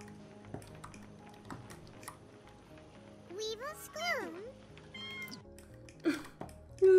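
Kitten meows in The Sims 4, several short rising mews in the middle and end of the clip over the game's soft background music and clicks.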